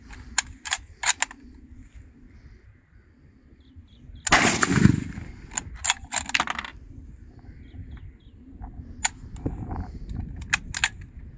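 A Mosin Nagant rifle in 7.62x54R fires during a rapid multi-gun shooting session in Pakistan, with one loud close report followed by sharp metallic clicks and clatter from the action, plus a few scattered distant shots.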